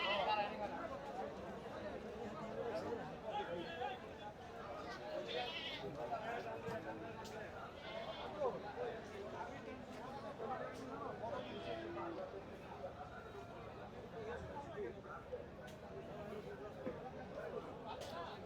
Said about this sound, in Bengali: অনেক গরু কিন্তু এখানে বেচা কেনা হচ্ছে।